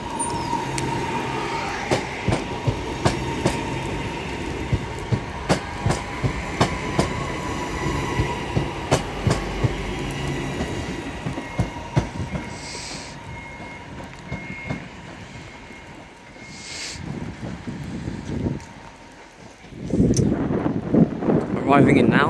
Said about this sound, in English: And another class 323, Northern Service, is now leaving for Crewe.